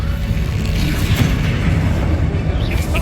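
A Bombarda explosion spell from Hogwarts Legacy rolls out as a heavy, continuous low rumble with a dense, booming body that stays steady and loud for about three seconds.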